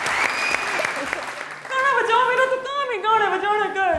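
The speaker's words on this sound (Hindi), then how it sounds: "आपने इनिश के लिए जोरदार ताली" Audience applause on a studio talk show fades out after about a second and a half, and a voice then speaks over the dying claps.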